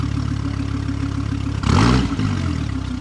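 A car idles with a steady pulsing rumble at a drive-through car show, then briefly revs louder and higher before settling back to idle, close by with no talk.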